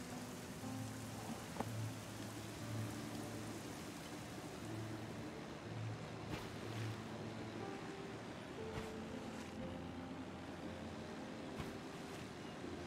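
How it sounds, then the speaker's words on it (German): Steady rain in the video game Submerged, a dense continuous hiss of drops over low droning tones, constant in level throughout with no talking. "Ich finde es gerade schön, dass der Regen aufhört."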